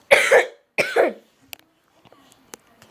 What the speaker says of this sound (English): Sorry if I'm coughing, I'm kind of sick.